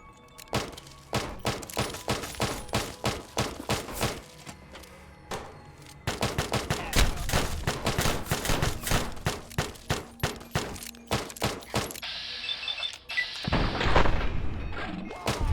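Rapid gunfire in Fallout New Vegas, dense bursts of loud shots in long rhythmic volleys with short pauses between them, ending in a sustained harsher blast.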